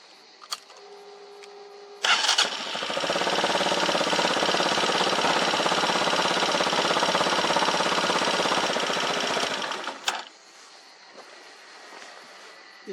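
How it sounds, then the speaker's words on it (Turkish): An X-treme Maxx200i motorcycle engine fires up with a sharp start, then settles into a loud, steady idle for about eight seconds before cutting off, leaving quieter background hum. "yarım marş çalışıyor makine. Rolantisi de gayet stabil."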